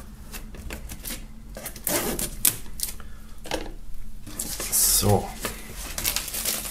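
Plastic shrink film peeled and crinkled off a cardboard box, with irregular close crackles, rips and rustles, and a person speaking briefly.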